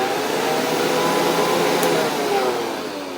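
A worn-out Hoover vacuum cleaner motor runs steadily and fairly loud, a continuous broadband whir with a faint whine that holds even throughout.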